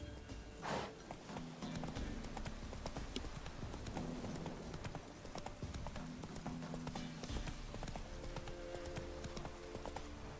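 Roach the horse trots in the video game The Witcher 3, a steady rhythmic clip-clop of hooves that runs throughout, moderately loud over a faint game ambience.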